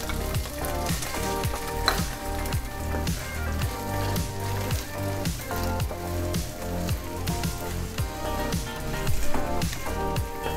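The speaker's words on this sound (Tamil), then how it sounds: "இது நல்லா வதங்கிடட்டும்." Half a large onion, finely chopped, sizzles in a pan for a fried chilli chicken dish, giving a steady crackling fry under louder background music.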